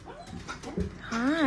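Puppies at an animal shelter give short yips and rising, wavering whimpers, close by, with a person's voice mixed in among the cries.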